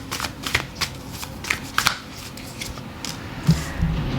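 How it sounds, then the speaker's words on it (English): Tarot cards being shuffled by hand, soft riffling and sliding in short, irregular bursts, close up and quiet, with no talking. "I do like to shuffle just a little bit before."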